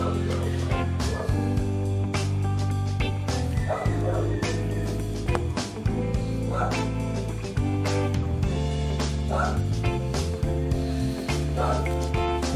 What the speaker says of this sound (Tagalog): Maingay yung aso, saka tumitilaok na yung manok.